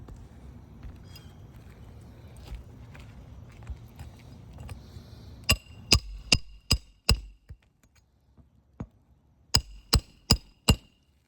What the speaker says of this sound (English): after he starts striking the hammer with the snake tool